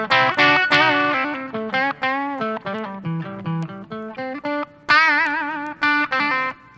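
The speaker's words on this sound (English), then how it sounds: "you can get just on the edge of distortion" An electric guitar plays a quick melodic phrase through an amp set just on the edge of distortion, a slightly gritty, overdriven tone, notes starting and stopping in a choppy rhythm.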